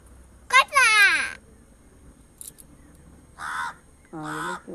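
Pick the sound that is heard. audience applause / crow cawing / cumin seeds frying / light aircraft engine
crow cawing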